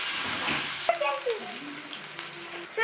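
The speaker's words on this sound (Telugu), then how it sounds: "ఇప్పుడు చికెన్ వేసుకోవాలి." Chicken frying in hot oil in a pan, a bright hissing sizzle that flares as the pieces go in, then settles into a steady fry with faint clinks and background hum.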